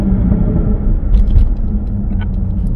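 Supercharged engine of a Jaguar F-Type 400 Sport gives a steady, loud low rumble that swells briefly mid-clip, with faint higher clicks above and no talk.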